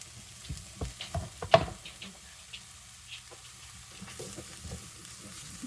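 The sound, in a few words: half an onion frying and cooking down in a pan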